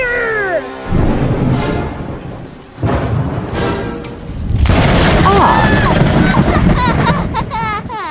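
Cartoon thunder from Whisker Haven crashes in loud, rolling booms, two heavy claps followed by a long sustained rumble with rain-like hiss, while a high cartoon voice cries out briefly at the start and end.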